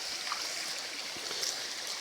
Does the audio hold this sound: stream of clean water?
yes